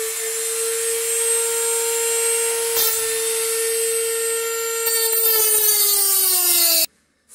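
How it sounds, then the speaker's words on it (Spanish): A handheld rotary motor tool cuts through a steel rawl anchor bolt, giving a loud, steady high-pitched whine that dips slightly under load near the end before stopping abruptly. "con el motor tool vamos a cortar el tornillo"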